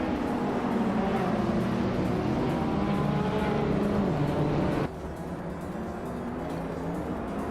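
Engines roar steadily as racing cars lap the Zolder circuit in a video game, a 1969 Triumph TR6 among them, the dense drone holding constant and then dropping slightly in level partway through.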